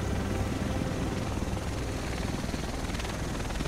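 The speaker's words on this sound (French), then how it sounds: "Le reste de l'équipe devrait être dans cet hélico." A helicopter in the video game The Division, its rotor thumping loud and continuous as it arrives close by, with no talk over it.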